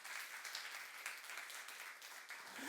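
A church congregation applauding during a youth service sermon, quiet and distant but steady throughout.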